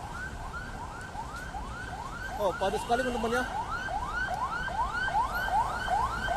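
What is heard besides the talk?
ambulance siren in city traffic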